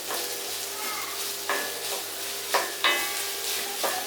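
Raw mango, peanut and white rice mixture being stirred in a pan, a steady scraping and sizzling texture with a few sharper scrapes of the utensil against the pan, close and unaccompanied by speech.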